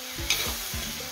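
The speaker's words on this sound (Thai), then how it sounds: "ผัดให้สลดก่อนนะคะพี่น้อง" Fish and basil are stir-fried in a wok for a spicy Thai pad cha, with three rhythmic spatula scrapes over a strong, close sizzle and no voices.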